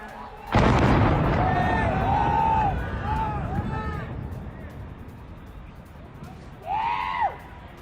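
A sudden loud drone-strike explosion at a US military base hits early and rumbles on for a couple of seconds, followed by distant shouting voices and a brief burst of yelling near the end.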